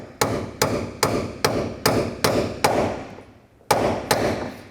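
Steady metallic hammer blows on a brass punch driving a door hinge pin on a 1988-2000 Chevy K1500, about eight sharp close strikes at a regular pace with a short pause before the last two.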